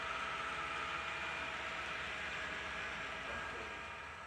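HO scale Southern Pacific model train rolling along a DCC layout through a canyon scene, a steady soft rumble and whir that slowly fades, with no voices.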